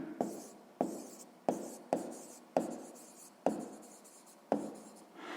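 A pen writes out a math answer on paper in about seven distinct strokes, each a sharp tap followed by a short scratching trail, close and clear with no talk.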